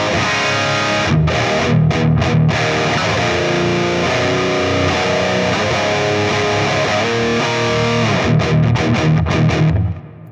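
Electric guitar played through a TONEX pedal running a 5150 preamp with a little gain and a touch of HX Storm reverb: loud, continuous distorted chords and riffs with brief palm-muted breaks, ending in a cut-off.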